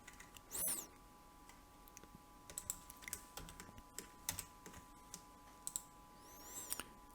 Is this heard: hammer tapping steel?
no